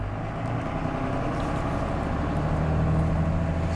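A 1995 Dodge Ram 2500 truck's engine runs steadily, a low continuous rumble with faint mechanical hum, heard from inside at moderate level and without talk.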